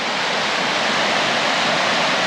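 A North Georgia waterfall rushes in a steady, loud, broadband roar of falling water, close and unbroken throughout with no voices.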